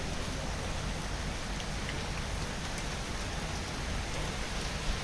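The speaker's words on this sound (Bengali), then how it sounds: "হালকা হালকা বৃষ্টি, খুব বেশি না।" Light rain falls steadily outdoors on a weekend morning, a soft continuous hiss of drops on surfaces with no voices.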